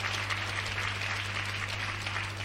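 A church congregation applauds during a deliverance service, a steady wash of clapping over a constant low electrical hum, even in level for the whole stretch with no pauses.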